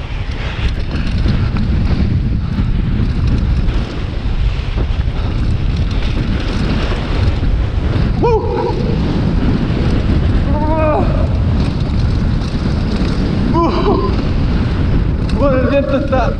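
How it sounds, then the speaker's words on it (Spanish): Strong wind roars across the microphone in heavy, continuous buffeting while a mountain bike rolls along, with a few short voiced exclamations breaking through the gusts. "¡Oh, el viento está brutal!"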